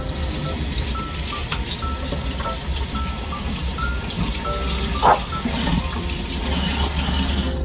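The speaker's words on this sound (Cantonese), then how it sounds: "就用清水沖返乾淨佢" Blanched lean meat rinsed under a running kitchen tap, with continuous loud water flow and splashing throughout and a brief clink partway through.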